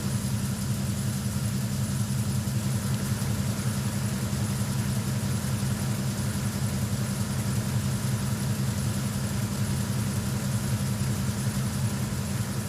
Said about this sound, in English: the beautiful sounds of an engine room.